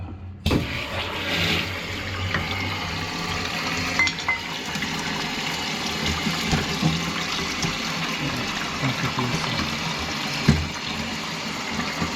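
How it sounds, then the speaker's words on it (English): Water is switched on and rushes through newly plumbed household pipes, producing a steady hissing flow with occasional faint knocks and clunks throughout. "Right, we'll get the water on and give it a go."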